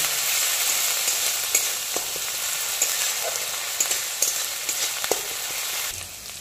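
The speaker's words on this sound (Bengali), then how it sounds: "আদা রসুনটা একটু কাঁচা গন্ধটা যাওয়া পর্যন্ত ভালো করে ভেজে নেব" Ginger garlic paste frying in oil in a pan, a loud continuous sizzle with scattered stirring clicks and scrapes, easing off at the very end, no speech.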